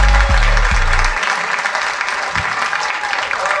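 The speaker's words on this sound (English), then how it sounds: "Clap for Alonzo Bodden, everybody." A comedy special audience in Philadelphia breaks into loud, dense applause, with a brief low musical sting at the start before steady crowd clapping carries on alone.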